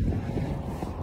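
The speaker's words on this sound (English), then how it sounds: "Sorry about the wind." Steady outdoor wind buffeting a microphone at a street intersection, a loud low rumble filling the whole second without letup.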